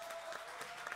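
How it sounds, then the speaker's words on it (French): Audience applause at a concert for the band Les Fils du Facteur, a brief, quiet wash of clapping heard from some distance, steady throughout the moment. "On peut les applaudir un coup bien fort, s'il vous plaît,"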